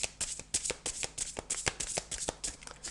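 Zen tarot cards are shuffled by hand, close and fairly quiet, in a rapid run of crisp riffling flicks with no talking.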